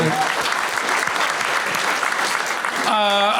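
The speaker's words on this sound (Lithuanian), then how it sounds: "Plojimai, Andrėjai, labai šanuolis." Loud, dense applause from an audience for Andrėjus, steady and sustained throughout, with a brief tonal voice or cheer rising near the end.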